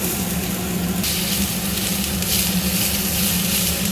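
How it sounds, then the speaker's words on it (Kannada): Onions fry in a pan with a loud, steady, continuous sizzle, close up and without any talking. "ಇದು ಸ್ವಲ್ಪ ಫ್ರೈ ಆಗಲಿ."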